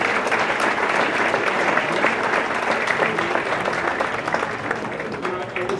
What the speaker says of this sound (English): A round of applause for the ladies.